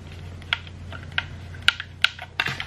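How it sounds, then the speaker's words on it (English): Buttons on a white Xbox controller clicking sharply, with about six distinct, irregular clicks at close range against a quiet background, and no talking. "I hate the clicking sounds."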